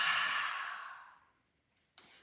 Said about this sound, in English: and then exhale out of the mouth